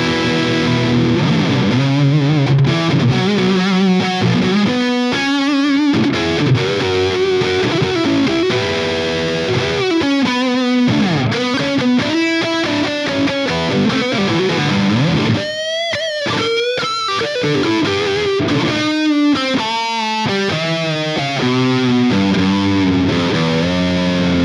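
Cheap budget electric guitar with heavy distortion plays a fast rock solo, loud and continuous with bending sustained notes and quick runs, no talking.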